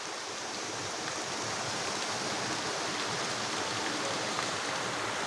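Rain shower falling steadily at an outdoor picnic, a dense, even hiss of drops throughout, no voices.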